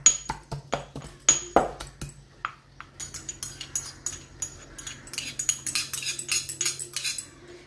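Black chickpeas being mashed by hand for chana bharta, a series of sharp metallic clinks and taps against a dish, sparse at first and then quicker and denser, close up with no one talking.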